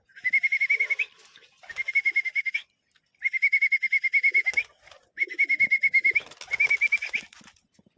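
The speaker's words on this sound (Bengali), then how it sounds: "তো দেখুন একে ছাড়ছি কেমনভাবে উড়ে যায়" Racer pigeons are released from a rooftop and flap away in several rapid bursts of rhythmic wingbeats, loud and close, with short pauses between flights.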